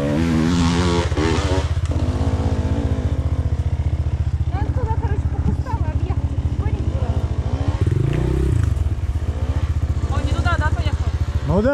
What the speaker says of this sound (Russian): я уже спустился с мотиком